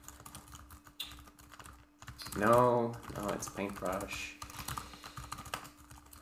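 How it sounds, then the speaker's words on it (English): Computer keyboard typing in a home setup while working on a paint program for a hobby operating system, light clicking keystrokes running alongside someone speaking briefly in the middle. "typing and thinking at the same time is just so difficult"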